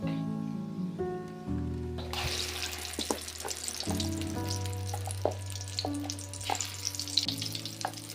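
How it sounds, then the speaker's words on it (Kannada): Ground sprouted moong dal paste goes into hot cumin in a pan for holige, setting off a steady, close sizzle of frying with stirring scrapes and soft clatters running throughout. "ಈಗ ಜೀರಿಗೆ ಸ್ವಲ್ಪ ಬಿಸಿ ನಾವು ರುಬ್ಬಿಟ್ಕೊಂಡಿರೋಂಥ ಪೇಸ್ಟ ಹಾಕ್ಕೊಳ್ಳೋಣ"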